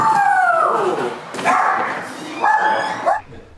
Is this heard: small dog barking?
yes